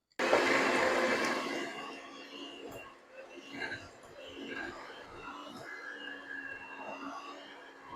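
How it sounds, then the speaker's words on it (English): A hand mixer whirs to life in a bowl of funfetti cake batter, starting abruptly and loud, then settling into a quieter, uneven buzzing churn with a voice faintly underneath. "I want to mix and beat this together until it is pale and fluffy. So let me plug in my hand mixer"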